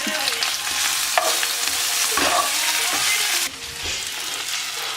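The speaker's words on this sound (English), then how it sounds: "My eggies are cooking." Eggs frying in a pan, a steady crackling sizzle with a few scrapes and taps of a utensil, the sizzle dropping slightly in level near the end.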